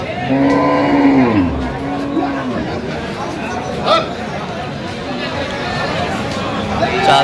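Cattle at a weekly livestock haat in Aftabganj, Bangladesh, where dairy cows with calves are sold: a loud, drawn-out moo rises and falls early on, with the busy hubbub of buyers and sellers talking throughout.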